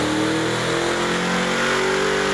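A 1968 Ford Mustang with EFI, an Aeromotive fuel system and an Edelbrock Victor Jr. intake revs hard on a dyno, its engine roaring loud and steady throughout with no pauses.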